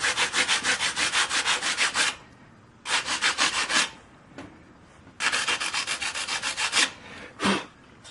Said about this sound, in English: Then I'll use a sanding block with 50 grit paper to remove the rest.